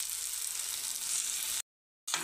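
Bajri vada bhaji curry being stirred in a pan, a soft steady sizzle of frying with faint scraping, cutting out to silence briefly before resuming.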